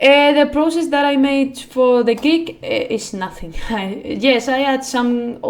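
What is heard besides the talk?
No everyday noise stands out behind the speech.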